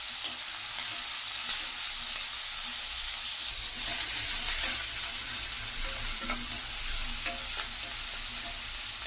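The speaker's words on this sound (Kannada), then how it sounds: "ಈಗ ಈರುಳ್ಳಿ ಹಾಕ್ಕೊಡೋಣ. ಇದರಲ್ಲೇ ಕರಿಬೇವು ಸಹ ಹಾಕ್ಕೊಡೋಣ. ಎಲ್ಲ ಚೆನ್ನಾಗಿ ಫ್ರೈ ಮಾಡ್ಕೋಬೇಕು." Onions and curry leaves sizzle steadily in hot oil in a pan for a pumpkin fry, a dense close crackling hiss with faint stirring.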